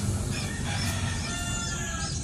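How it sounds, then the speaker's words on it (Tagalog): Farmyard Shamo chicken sounds with clucking and fowl calls from a rooster and hens over a steady, busy outdoor background; no clear crow stands out. "Ayan naman ang isa nating tandang."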